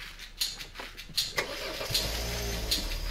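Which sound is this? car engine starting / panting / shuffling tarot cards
car engine starting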